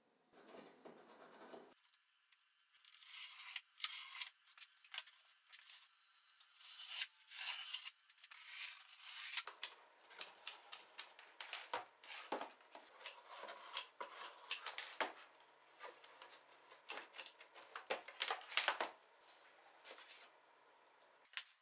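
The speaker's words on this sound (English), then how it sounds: "I trimmed the base to suit the new depth, leaving a glue flap for assembly." Cardboard is trimmed for a furniture prototype base, giving repeated close scraping, snipping and rubbing sounds in irregular bursts against a quiet room.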